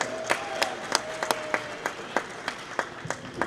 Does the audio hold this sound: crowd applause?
yes